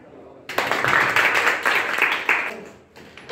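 Children and their teacher applaud at a school-readiness fair, a dense burst of many small hands clapping that starts suddenly after a short pause and tapers off near the end, with a few voices mixed in.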